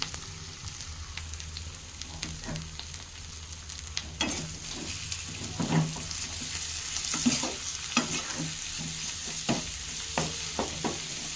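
Potato curry frying and being stirred in a pan, a soft continuous sizzle broken by repeated sharp clicks and scrapes of the spatula, close and moderately quiet.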